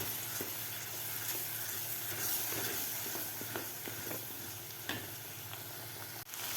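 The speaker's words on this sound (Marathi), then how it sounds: "आता हा मसाला आपल्याला सुके मसाले घातल्यानंतर 2 मिनिटं आपल्याला परतून घ्यायचा आहे." Masala with dry spices, drumsticks and potato being sautéed in a pan, giving a continuous low sizzle with occasional scraping taps of stirring and no talk.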